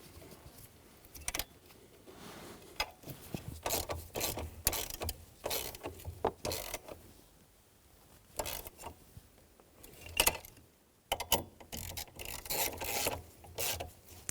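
Ratchet snugging nuts and bolts on the steering column flexible coupler of a 2011-2014 Hyundai Sonata: close, irregular bursts of rasping clicks and metallic scraping, paused now and then, with no one talking.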